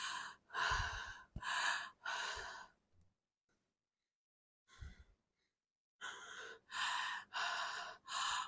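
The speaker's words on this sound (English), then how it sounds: "And then you breathe in and out like" A woman breathes in and out audibly and close to the microphone, with several loud breathy sighs and gasps in a slow rhythm, a quiet pause in the middle, then more breaths.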